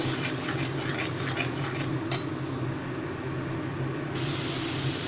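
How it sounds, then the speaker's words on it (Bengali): A turmeric-spiced masala paste is stir-fried in a pan for a small river fish curry, giving a steady, moderately loud sizzle with light scraping of a spoon against the pan throughout. "এবার কিন্তু মশলাটাকে ভালোভাবে আগে কষিয়ে নেব"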